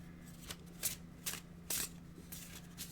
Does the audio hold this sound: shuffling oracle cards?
yes